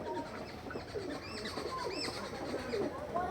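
Racing tournament pigeons coo softly and repeatedly nearby, their low, rolling calls overlapping against a faint background hum.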